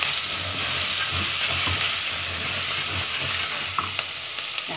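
Continuous sizzling and frying of macaroni in a pot with salt, black pepper and green chilli, stirred with occasional soft scrapes under a steady hiss.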